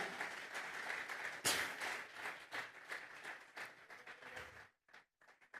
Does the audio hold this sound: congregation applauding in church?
yes